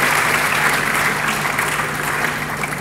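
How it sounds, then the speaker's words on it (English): Audience at an interfaith dialogue event claps steadily for a few seconds, a dense even wash of applause with no voices over it. "Give a round of applause to Brother Shakiri."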